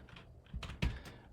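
Search term typed on a computer keyboard, a short quick burst of soft key clicks ending in one firmer tap, close and quiet.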